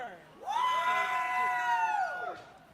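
A crowd at a robot combat event cheers and screams for the robot Error 404, a loud sustained roar of voices with a shrill scream riding on top that swells quickly and then tapers off.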